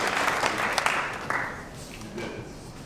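An audience claps in a lecture or event setting, with dense applause that starts out strong and then tapers to scattered claps as it fades.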